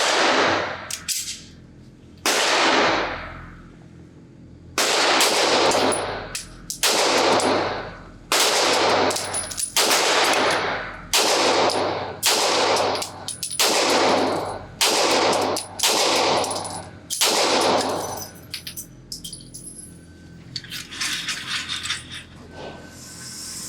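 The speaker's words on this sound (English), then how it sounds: "I'm going to use some Federal Hydra Shock, a pretty standard and common hollow point ammunition, and just see if I can shoot 10 or 12 rounds" A Sig Sauer P320 XFive Legion pistol fires about a dozen rounds of Federal Hydra Shock hollow point ammunition at an outdoor range, loud close shots in an uneven rhythm.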